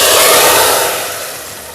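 Hot tadka, light golden, is poured over urad dal with coriander, bursting into a loud broadband sizzle that starts strong and gradually fades away.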